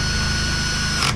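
A power impact or bit driver runs steadily on plastic screws while a Husqvarna 129L string trimmer is reassembled, a loud continuous whirring buzz that cuts off abruptly at the end.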